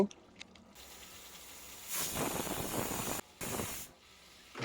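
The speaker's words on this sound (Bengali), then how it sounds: "আবারও প্রেসার কুকারের ঢাকনাটা আটকে দিয়ে আমি দুটো সিটি মেরে নেব" A pressure cooker of khesari dal with jackfruit seeds vents steam as a loud, airy broadband hiss. It comes in two close bursts, the first longer, after a quieter stretch, with no one speaking.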